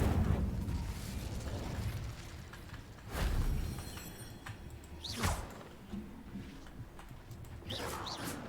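Incendio fire spell cast in Hogwarts Legacy: a few loud whooshing bursts of flame with booming low rumble, spaced a couple of seconds apart over ambient game sound.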